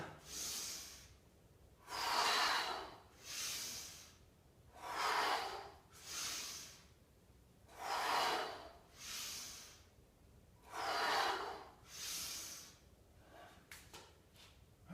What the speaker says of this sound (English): So on the way up, inhale. Exhale on the way down.